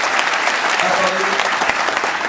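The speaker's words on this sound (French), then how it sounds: "Attendez la suite, n'applaudissez pas, ça ne se mérite pas." Audience applause at a political rally in a Paris meeting hall, a loud, dense burst of clapping from a large crowd filling the short moment.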